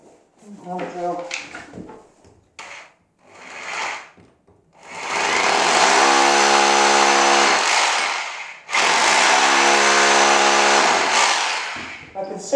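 Drill running on masonry during a Hilti and Festool tool demonstration, two long loud continuous bursts of several seconds each with a steady droning whine, following a few short tool knocks and handling noises.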